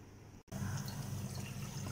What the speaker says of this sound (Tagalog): Kailangan natin lagyan ng tubig.